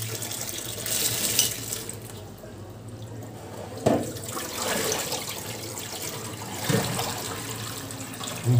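Chopped vegetables are rinsed under running water at a kitchen sink, a steady close splash and trickle with a few sharp knocks and clatters of pieces or a utensil.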